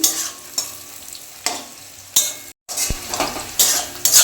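Mutton frying with torn green chillies is stirred in a pan: sizzling bursts and scraping strokes of a spatula come in irregular sweeps, close and loud, with a brief break midway.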